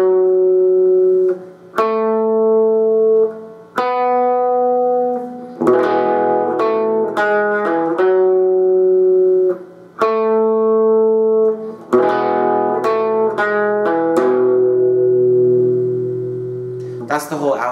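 An electric guitar plays an outro riff, sustained and melodic with held notes and quick slides, clean and upfront with a touch of effects.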